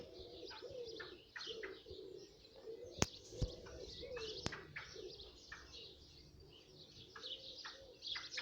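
Steady chirping and cheeping of blackbird chicks being fed outdoors in a garden, with soft cooing mixed in and a couple of sharp clicks, continuing throughout at moderate distance.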